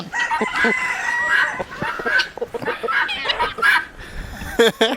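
A flock of chickens clucking busily while pecking at scattered feed, with a rooster crowing close by and someone speaking briefly near the end.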